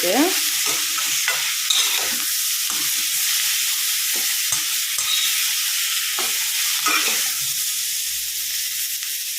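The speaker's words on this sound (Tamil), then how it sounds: "பாருங்க நல்லா வதங்கிடுச்சு ஃப்ரெண்ட்ஸ்" Drumstick leaves sauté in a pan under a constant bright sizzling hiss, while a spatula scrapes through them in quick, irregular strokes. The sound is close and steady.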